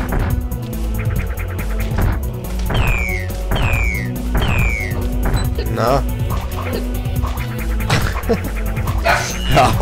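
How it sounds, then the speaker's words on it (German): A dog barks several times in the background, sharp repeated yelps under a steady mix of video game music and effects. "Hör auf, da hinten zu bellen."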